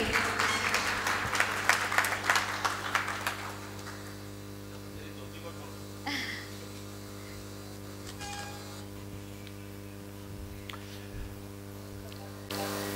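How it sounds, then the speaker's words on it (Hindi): A crowd at an awards ceremony bursts into clapping that fades after a few seconds, leaving a quiet room with steady electrical hum and a few faint scattered sounds. "जोरदार तालियां हो जाए इनके लिए"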